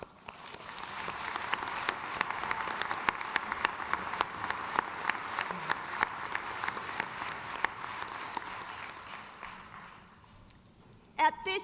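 Audience applause at a university business school commencement ceremony, a dense, steady wash of many hands clapping for about ten seconds before fading out, with a few louder claps at the end.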